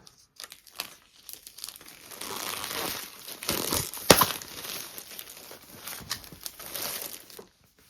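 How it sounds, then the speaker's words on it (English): Shrink-wrap being cut and peeled off Lackadaisy comic books with a knife, close crinkling and crackling plastic in uneven bursts with one sharp tearing rip midway, then quieter rustles. "now to actually do the unwrapping part"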